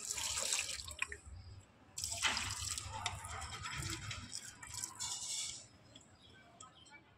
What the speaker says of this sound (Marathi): पहिला मेन म्हणजे आपण झाडांना पाणी टाकूया.